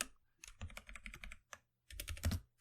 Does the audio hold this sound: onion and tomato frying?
no